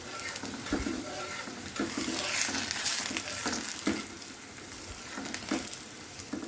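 Radish paratha ingredients fry in a pan with a continuous crackling sizzle, punctuated by regular scraping knocks from stirring.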